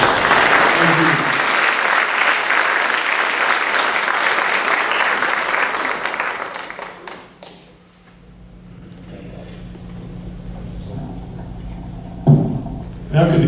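Audience at a 2014 county candidates forum applauds the candidates, a loud dense clapping that fades after about seven seconds into quiet room noise with a brief bump near the end.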